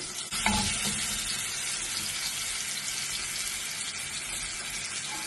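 Fish frying in a pan for fish biryani, a steady close sizzle of hot oil with a brief clatter near the start, then an even crackling hiss throughout.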